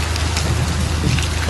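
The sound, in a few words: rain falling in news footage from Spain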